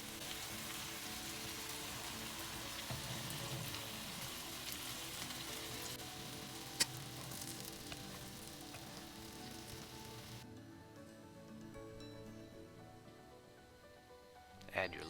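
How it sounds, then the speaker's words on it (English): Fish sautéing in melted butter in a pan gives a steady, fairly loud sizzle that runs without a break, with a brief clink partway through and a slightly duller hiss toward the end. "Melt the butter. Maybe saute the fish a little bit with the butter."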